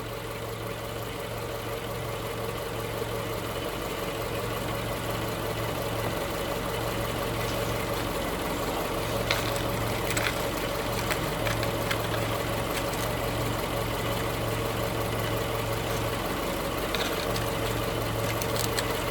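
A Subaru Forester engine idles steadily, heard up close from underneath the car, with a continuous low hum and a faint irregular ticking layered over it, with no talking.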